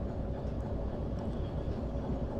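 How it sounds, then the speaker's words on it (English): A shunting locomotive runs in the railway simulation game Derail Valley, giving a steady low rumbling engine drone with faint clanks over it, moderately loud and without speech. "Considering it's only a shunting train, it does actually sound really good."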